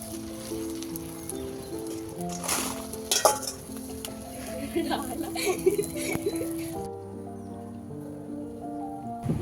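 Fuchka puris, twenty to thirty at a time, fry in a wok at a food stall with a busy, crackling sizzle, punctuated by scraping and clinking of a utensil, while a person talks over it.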